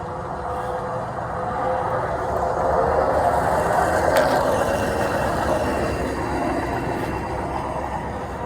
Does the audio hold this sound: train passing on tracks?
yes